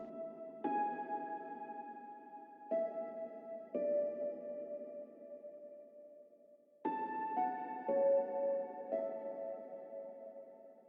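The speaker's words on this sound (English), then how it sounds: "we also have another version of the melody from earlier in the track, an octave higher than this melody we heard earlier" A lo-fi piano melody played an octave higher, sounding only main notes without filler, as a sequence of soft sustained tones with clear attacks, each ringing out and decaying before the next, quiet and intimate with no talk.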